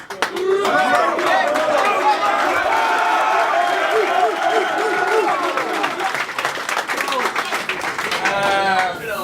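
A rap battle crowd cheering, clapping and whooping loudly and continuously, a dense mass of voices and applause near and full throughout.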